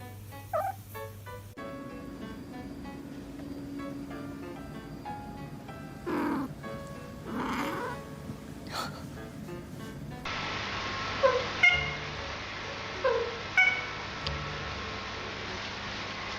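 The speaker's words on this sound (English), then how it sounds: "Cat activation noise." A pet cat lying in bed makes soft honking activation noises and purrs, close and quiet, with brief vocal bursts scattered over a low steady purr and no talking.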